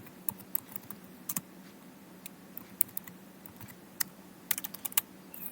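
Irregular bursts of clicking keys on a computer keyboard, close and faint, with short pauses between typed words and a low background hum.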